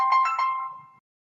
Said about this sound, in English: The phone rings and we have to answer it.